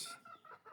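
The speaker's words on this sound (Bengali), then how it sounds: "আমার এখানে প্রচুর মুরগি" Chickens cluck in short repeated bursts, close by, with a harsh squawk at the start and several clucks following quickly.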